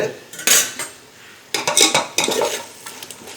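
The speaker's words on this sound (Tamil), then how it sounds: "நல்லா மிக்ஸ் பண்ணி விட்டுடுங்க" A spoon scrapes and clinks around a metal pot as homemade yogurt is stirred into a tomato prawn biryani masala, with a few sharp clatters set among softer scraping and no talking.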